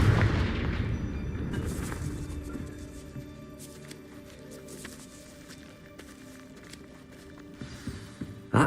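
Confringo blast spell cast in the video game Hogwarts Legacy, an opening burst of booming fire followed by rumbling debris and scattered impacts fading into ambient game sound, with another sharp hit at the end.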